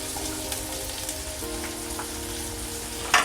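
Chopped ginger, garlic, onion and green chili frying in oil make a steady, dense sizzle throughout, with a brief louder crackle near the end and no talking.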